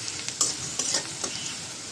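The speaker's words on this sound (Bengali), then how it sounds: "পেঁয়াজ কাঁচামরিচ ভাজা হয়ে গেছে, শাক দিয়ে দিলাম।" Onion and green chili fry in a hot pan as water spinach greens are stirred in, with a steady sizzle and several sharp, close scraping stirs.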